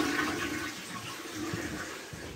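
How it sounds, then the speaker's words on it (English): A toilet flushing in a fishing lodge bathroom, a steady rushing gush of water close by that fills the whole moment and tapers only slightly toward the end. "Nice toilet, and does it flush?"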